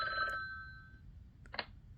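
In the Talking Tom app, a cartoon telephone rings with a bright electronic trill at the start, then fades, followed by a short quieter ringing burst near the end.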